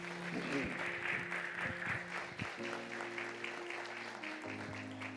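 A church congregation applauds during a celebration service, steady clapping running through the whole stretch with sustained musical tones and a faint voice underneath.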